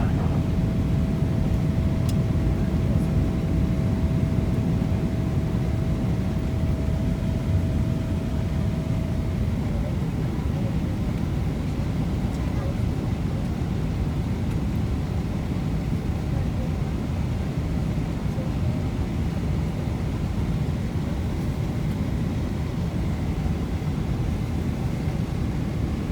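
An Emirates Boeing 777-300ER takes off on a Dubai to Kochi flight, heard from inside the cabin as a loud, steady engine roar and rumble that holds unbroken throughout.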